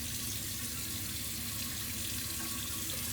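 Steady, loud rush of tap water running into a bathroom sink while the face is wetted during a nighttime skincare routine, continuous and close with no talking.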